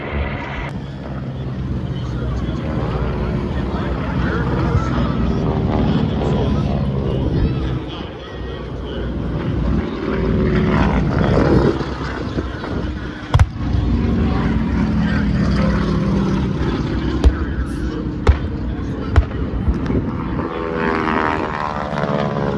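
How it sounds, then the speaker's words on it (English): Propeller bomber aircraft roar overhead in an air show reenactment of the Imperial Japanese Navy approach. The engines hold a loud, continuous drone with swelling passes, and a few sharp bangs cut through. "Experience the roar of the engines and the sounds of the bombers as the Imperial Japanese Navy approaches."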